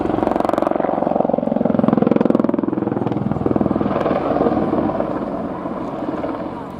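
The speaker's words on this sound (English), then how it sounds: "demonstrating the awesome power of the 2 turbo-mecha engines mounted either side of the fuselage" An Apache attack helicopter with two Turbomeca turboshaft engines on either side of the fuselage displays at the RNAS Yeovilton air show, giving a loud, steady rotor thrum with rhythmic blade pulsing and faint voices underneath.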